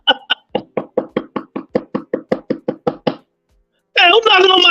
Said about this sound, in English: who's knocking on my door like that hard?